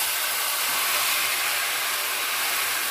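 Water poured into a hot pan of frying vermicelli erupts into a loud, steady, close hiss of steam that holds for several seconds with no talking over it.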